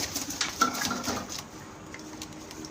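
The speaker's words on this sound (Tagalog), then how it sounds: "papakita ko sa inyo yung kalapate ako dito yung pang racing" A racing pigeon coos softly nearby in a short, low burbling run, with faint clinks and a background hum and no talking.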